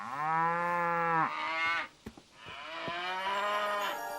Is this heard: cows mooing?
yes